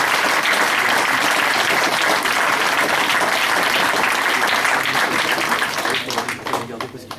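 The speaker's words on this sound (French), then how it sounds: "Et on peut l'applaudir." A crowd applauds a judo practitioner receiving a 5th dan grade, dense sustained clapping that fills the room and then thins and tapers off over the last second, with voices mixed in.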